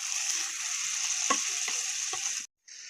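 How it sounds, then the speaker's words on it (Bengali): Pieces of liver sizzle and fry in spiced oil for a Bengali kolija bhuna, a steady close hiss with a few stirring clatters, broken by a brief pause near the end. "এবার এরকমভাবে আমি কলজেটা পুরো ভুনে নেবো।"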